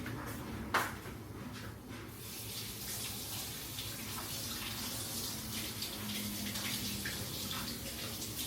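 Tap water runs steadily into a sink as hands are washed, a continuous mid-level splashing hiss with a brief clatter near the start, indoors in a home kitchen with no talking.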